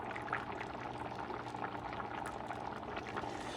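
Paella liquid simmering with ostrich meat added to the pan, a soft, even bubbling and light gurgle of boiling broth heard up close and fairly quiet, steady throughout with no talking.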